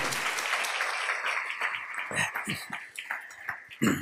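Members of a church congregation clap their hands at a marriage retreat, a dense burst at first that thins into scattered individual claps, with a voice speaking faintly beneath.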